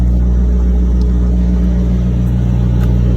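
A truck engine runs loud and close with a deep, steady rumble and strong low hum that barely shifts in level, with no voices over it.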